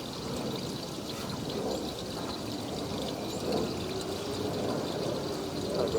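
Water runs and splashes steadily, a continuous close rushing flow with slight surges, no voices.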